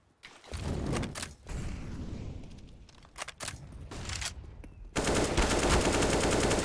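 AK-47 rifle fire on the Inferno map in a Counter-Strike match, rapid bursts of close, loud shots with brief pauses, ending in sustained dense firing.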